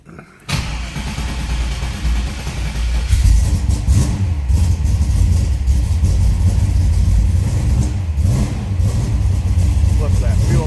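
A 1970 Chevrolet Nova V8 engine fires up and runs at a fast idle of about 1,500 RPM, a loud, steady, rumbling drone close by with slight swells, while someone talks over it.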